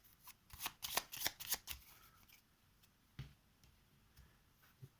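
Cards from the board game Vendredi shuffled by hand up close, a quick flurry of crisp riffling snaps for about two seconds, followed by a few scattered soft clicks and taps in a quiet room.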